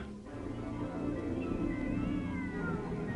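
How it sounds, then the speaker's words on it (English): A cat screams outside a theater late at night: a drawn-out, wavering yowl that rises and bends over a steady low background rumble, heard at a moderate distance with no talk. "A cat screams."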